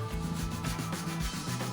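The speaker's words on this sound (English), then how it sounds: "some more sanding just to make sure it's all nice and clean" Sandpaper is rubbed by hand inside the head tube of an early-1990s mountain bike frame, giving close, loud, rhythmic back-and-forth scratchy strokes about every few tenths of a second.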